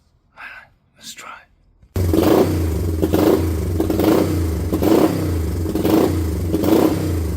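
A Honda CB350 motorcycle with a Mikuni carburetor fires up from a kick start and runs on choke with a loud, rhythmic, throbbing idle. Two short voiced sounds come first, then the engine catches abruptly and keeps going.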